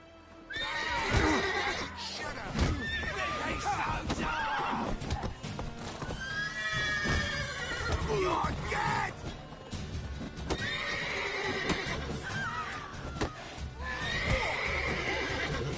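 In the PS4 video game, a horse whinnies loudly several times over steady clip-clopping hooves, with a busy background bed throughout.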